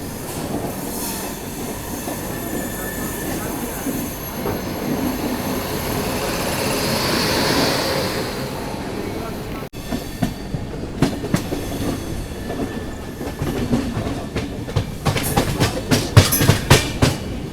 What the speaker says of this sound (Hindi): अभी बस वाराणसी सिटी रेलवे स्टेशन से ही अपनी ट्रेन डिपार्ट हो रही है।